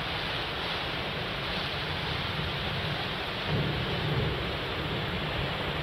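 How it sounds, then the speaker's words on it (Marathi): Heavy monsoon downpour with rumbling thunder in Nashik as the Godavari rises, a steady dense roar of rain with a deeper swell of thunder partway through, no voices. "मुसळधार असा पाऊस पडतोय।"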